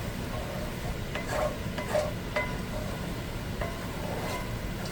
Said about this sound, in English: Just let it simmer away, let it reduce for about 3 minutes or so, just to burn off the alcohol.